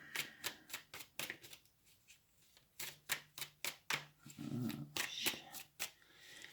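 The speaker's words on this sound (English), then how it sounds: "Good clean shuffles." Quick papery riffling bursts of shuffling cards, repeated in a steady series, fairly close and moderately loud with a brief low rustle midway.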